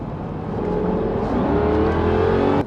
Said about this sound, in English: that Jag engine.